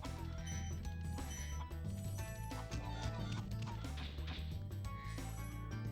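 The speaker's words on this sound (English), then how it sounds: "cartoony, with all the chickens and sheep" Cartoony chickens clucking in the town square level of Spyro the Dragon, set into a dense, continuous game soundscape of music and effects that stays loud throughout.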